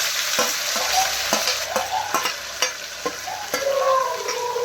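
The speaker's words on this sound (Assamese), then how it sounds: "কৰ্দৈটো ভাজি পেলাই গুড়া কৰি ল'ম" Star fruit frying in a pan, with steady close sizzling and a string of sharp scraping and stirring knocks from a utensil against the pan, no talking.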